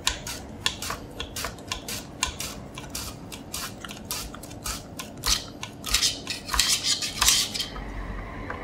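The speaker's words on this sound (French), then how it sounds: "Comme la mandoline coupe très très fort, c'est impératif sur les petits aliments d'utiliser un poussoir." A mandoline slices tomato and cucumber with a food pusher in quick, steady rhythmic strokes, each one a crisp close-up scrape, getting louder toward the end before stopping.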